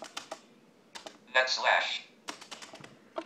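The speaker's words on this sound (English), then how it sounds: "I'm just typing it again so you guys can hear it." Keys clatter in short bursts of quick clicks on a BrailleNote Apex braille keyboard. The bursts are close and fairly soft, broken by pauses, and a voice speaks briefly between them.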